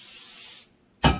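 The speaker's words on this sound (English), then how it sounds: "Just gonna spray" A short hiss from a can of cooking spray, a brief pause, then another louder, fuller burst of spray, close up.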